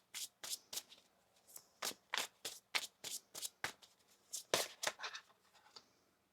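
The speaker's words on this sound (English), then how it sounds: "One more shuffle" Tarot cards are shuffled close up in a quick run of soft, papery riffles and taps, fairly quiet and steady.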